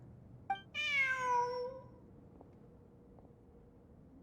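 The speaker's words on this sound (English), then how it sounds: "Look, a cat." A single cat meows once in the Genshin Impact video game, a clear, drawn-out, falling cry near the start, followed by quiet ambient game background.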